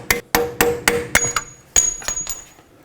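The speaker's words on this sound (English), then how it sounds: "I'm going to use a punch on this side to drive the bolt out the rest of the way." A punch is hammered to drive a knuckle bolt out of the front suspension of a 2001-2007 Volvo V70, giving about ten sharp metallic strikes in an uneven series, close and loud, fading toward the end.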